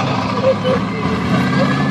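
Ford Bigfoot monster truck engine rumbling low and steady at a stunt show before an audience, heard under a French announcer talking over it.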